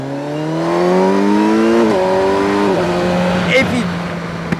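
A Kawasaki Versys 1000 S engine pulls hard through the gears, its rising harmonic pitch climbing, dropping at each shift and climbing again, loud and steady against rushing wind noise.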